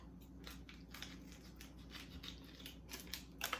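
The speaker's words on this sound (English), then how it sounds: "cut from a new packet" Scissors cutting into a new packet while baking bagels at home, faint crisp snips and crinkly plastic rustling close by, quiet and irregular over a steady background hum.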